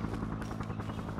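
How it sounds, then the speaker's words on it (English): A helicopter in the video game Cam Loa Nam drones steadily with a fast rotor chop, a continuous thrumming wash filling the background throughout. "That freaking helicopter, I can't hear nothing"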